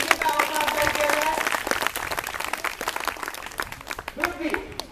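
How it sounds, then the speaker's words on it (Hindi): Students and audience at a school quiz give a round of applause for group B, a busy patter of many hands clapping at moderate distance that thins out toward the end, with a voice briefly audible. "एक बार जोरदार ताली से ग्रुप बी का आवाज किया जाए"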